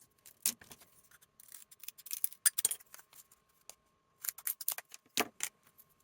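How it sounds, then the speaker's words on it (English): Scissors snip through wooden popsicle sticks at a craft table while a small beach chair is built, giving a scattered series of sharp, close crunching cuts with short quiet gaps between them. "I'm now using scissors to cut where our line was drawn"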